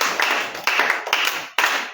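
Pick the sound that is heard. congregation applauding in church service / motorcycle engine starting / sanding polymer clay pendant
congregation applauding in church service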